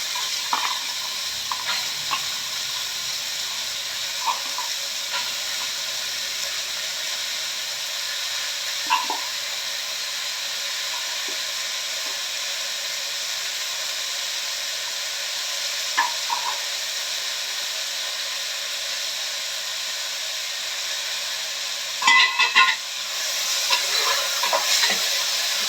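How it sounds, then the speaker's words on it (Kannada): Washed fresh cowpeas fry in a pan with a steady, even sizzle and hiss, close and moderately loud, with a few soft stirring taps and a brief clatter near the end, no talking. "ಫ್ರೈ ಆದಮೇಲೆ ಈ ತೊಳೆದಿಟ್ಕೊಂಡಿರುವಂಥ ಅಲಸಂದೆ ಕಾಳು ಇದನ್ನು ಚೆನ್ನಾಗಿ ಫ್ರೈ ಮಾಡ್ಕೊಬೇಕು."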